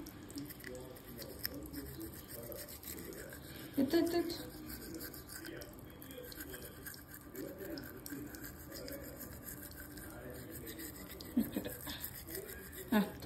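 A child scrubs their teeth with a toothbrush, giving soft, scratchy bristle strokes and wet patter close by, while an adult talks over the brushing throughout.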